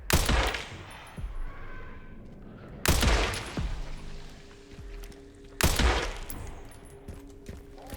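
Rifle gunfire in the video game Resident Evil Requiem: three loud, heavy shots spaced about three seconds apart, each with a booming tail and a lingering ringing decay, with no talk over them.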